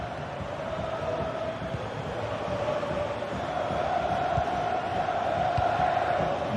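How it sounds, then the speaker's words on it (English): A football stadium crowd roars steadily as fans urge a player to shoot, a dense, distant-sounding wash of voices that swells slightly toward the end. "A crowd urging him to shoot."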